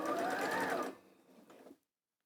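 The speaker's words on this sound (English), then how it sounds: "So I'm just going to go in and sew these together." A sewing machine stitches fabric pieces together in a short close burst that slows and stops, followed by a moment of faint handling and then silence.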